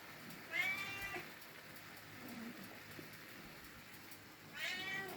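A cat gives two short, high meows, one early and one near the end, under a steady soft hiss of rain and quiet kitchen background.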